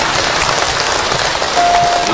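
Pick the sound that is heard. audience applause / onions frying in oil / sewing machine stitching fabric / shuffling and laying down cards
audience applause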